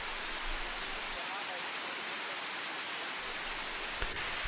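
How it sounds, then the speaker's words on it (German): A loud, steady rushing of a stream beside a waterfall near a campground in Saarburg fills the scene with constant broadband roar, unbroken and close. "Der Bach ist hier sehr laut."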